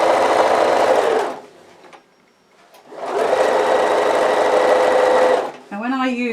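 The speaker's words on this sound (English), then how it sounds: "all you're doing is stitching up those straight sides" A sewing machine runs at a steady speed, stitching up the straight sides of a quilted bag made from layer-cake fabric pieces, with two long runs of close mechanical whirring broken by a brief pause, then a voice at the end.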